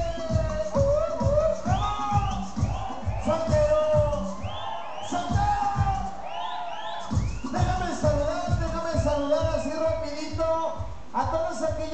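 A crowd at a live sonidero dance yells and whoops in a dense, continuous roar, with a voice over an amplified sound system over driving, thumping dance music.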